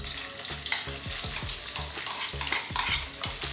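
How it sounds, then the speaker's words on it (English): Smoked bacon bits hit hot oil in a pan, crackling loudly while a utensil scrapes and stirs in repeated strokes; no voices. "once that oil is nice and hot, we're going to throw in the beautiful bacon bits"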